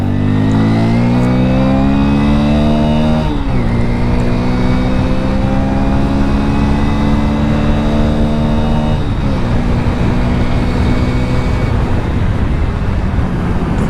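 A Hero Splendor Plus BS6 motorcycle cruises at normal road speed, its steady mid-pitched engine drone loud and continuous with two brief gear-shift dips, plus wind rush throughout and no talking.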